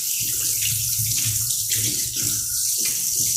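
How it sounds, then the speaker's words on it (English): A kitchen tap runs steadily while a spoon and measuring spoons are washed, splashing onto the counter: continuous close water rush with a changing, gurgling splatter, and no talking. "That's what happens when you wash a spoon and you just let the water run everywhere."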